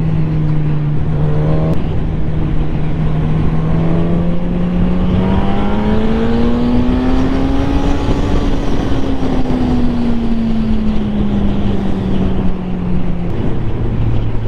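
A 2020 Suzuki GSX-S 1000 motorcycle engine winds up to high revs, its loud droning note climbing steadily in pitch then easing slightly, close and continuous with no talk over it.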